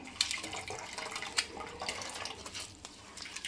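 Water poured over grated coconut to draw out coconut milk gives a steady, continuous splashing and trickling at moderate level, with small bursts of louder splashes, and no voices.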